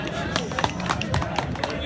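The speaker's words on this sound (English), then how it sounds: "Please give Mr. Ahmed a harsh clap." An audience claps at an English language club evening, with dense, uneven hand claps over a crowd murmur and voices.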